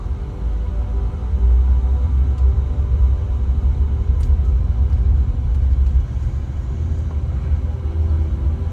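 A car rolls slowly over gravel, a steady low rumble of engine and tyres running close and continuous from start to finish.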